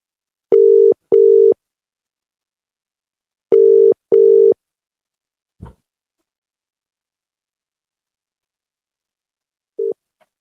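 A busy signal on a radio call-in phone line sounds as two pairs of loud, clean, steady tone bursts in a paced rhythm. A short click follows, then one clipped final tone after a gap of silence.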